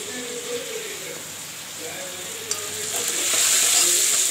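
Ridge gourd with salt, coriander powder, garam masala, red chilli and turmeric being stirred and fried, a soft hiss that grows louder and brighter toward the end, with a single sharp tap midway.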